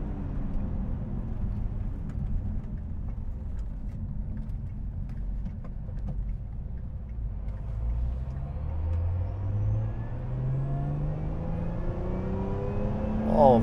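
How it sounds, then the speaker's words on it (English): A supercharged Lotus Emira sports car engine hums at a low pitch on the road, then revs up in rising sweeps toward the end, loud and close from inside the cabin. "All the fun supercharger noises."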